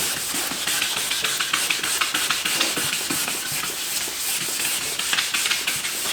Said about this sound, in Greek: Ότι θέλει καλό ξύσιμο με όλα τα γυαλόχαρτα.